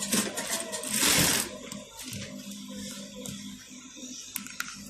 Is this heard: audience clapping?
no